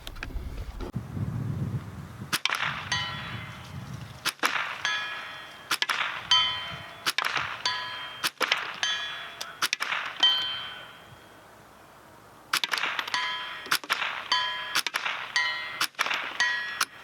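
Standard velocity rimfire rounds are fired in a steady series. Each sharp shot is followed by a bright ringing clang from a steel target, with a short pause partway through.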